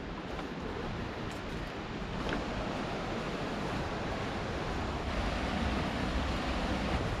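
River water rushing steadily along the Mawryngkhang Bamboo Trail near Wahkhen, a continuous broadband wash with no speech over it.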